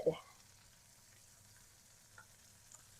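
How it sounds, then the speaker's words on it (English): A ribeye steak fries in butter, oil and rendered fat in a cast iron skillet, giving a faint steady sizzle after a brief louder clatter at the start. "It's been cooking in that butter and oil and fat that's rendered from the steak."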